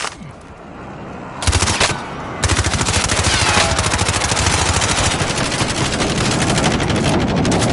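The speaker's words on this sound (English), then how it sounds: "Are you shooting with a shotgun from here?" Gunfire in a multiplayer shooter video game: after a quieter start, a sudden loud burst of rapid repeated shots that keeps up as dense, continuous fire to the end.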